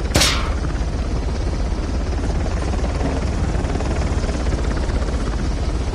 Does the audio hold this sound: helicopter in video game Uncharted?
yes